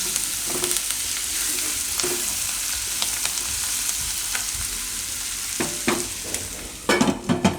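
A Gujarati radish and beetroot curry cooks covered in a pan, giving a steady close sizzle and bubbling hiss with occasional sharper pops and spatters, growing busier toward the end.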